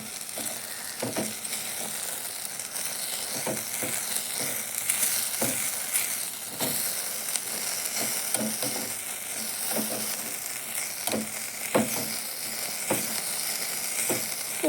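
Food deep-fries in hot oil with chili powder, a continuous bright sizzle, broken by frequent scraping clicks of a spoon stirring the pan, moderately loud and with no talking.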